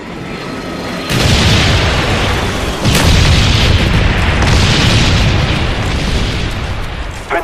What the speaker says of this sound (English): Carpet bomb coming in.